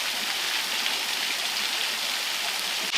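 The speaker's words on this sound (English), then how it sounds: "I'm not sure whether this is the main waterfall, but I thought I would film it just in case." Small woodland waterfall near Humbie, Scotland, giving a steady, dense rush of falling water that stays even and continuous throughout, close and moderately loud with no voices.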